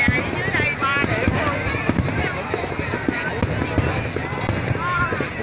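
Fireworks burst over buildings in Saigon at a New Year-style display, a dense run of cracks and booms, some sharp and some distant, while voices talk and exclaim throughout.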